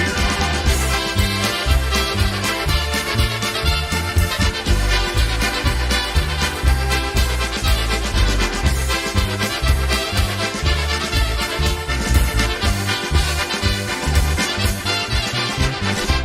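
Polka recording, a dense, loud band sound with a steady bouncing beat, bright melody on top and a strong low end, playing continuously throughout.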